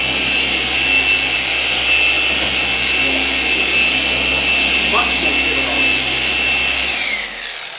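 An In2Detailing DA15 V2 dual action machine polisher with a 15mm throw runs at a steady, loud high-pitched whine over a low drone, then spins down and cuts off near the end.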